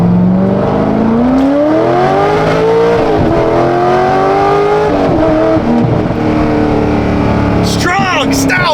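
A Chevrolet Corvette Z06 with an LS7 engine revs hard on the move, its loud engine note rising and falling steadily through gear changes, with a sharp burst of higher revving near the end.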